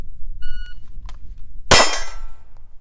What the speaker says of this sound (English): I'm gonna do the same thing, 5 rounds out of the holster with that Bulldog holster.